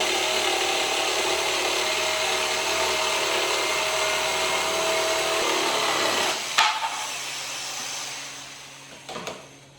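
A power saw cuts hardwood floor boards fitted in the trunk of a Ford Focus ST, a steady loud whining buzz for most of the time that drops away, followed by a couple of short clunks and a brief burst near the end.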